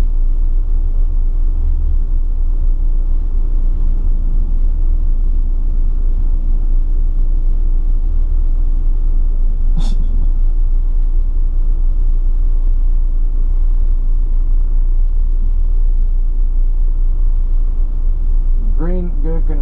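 Suzuki race cars idle together at the start of a cheap car challenge race, making a loud, steady, low engine rumble that runs throughout, with people talking over it.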